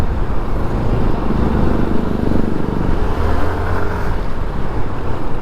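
A Yamaha Fascino S 125 hybrid scooter rides along a service road onto a highway, with steady, loud engine drone and broadband road and wind noise throughout, and traffic mixed in.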